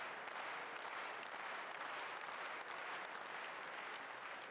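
Dense, steady applause from a crowd at a men's singles table tennis match at the German Open, filling the whole stretch evenly with no clear voices standing out.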